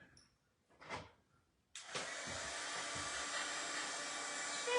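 A heat tool dries stamped ink on a card, switching on after a faint thump and then blowing a steady, close, even whoosh for several seconds.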